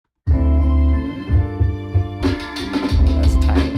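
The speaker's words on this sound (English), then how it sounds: "Versus like in the club, it would sound like this." Bass-heavy music with booming low notes and a thumping beat, sounding big and roomy as if played loud through a club's speakers.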